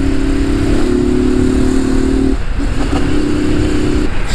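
A Honda Fan 160 motorcycle riding at dusk, a loud steady engine drone with an even mid-pitched hum that briefly dips as if shifting gear, then carries on with road noise.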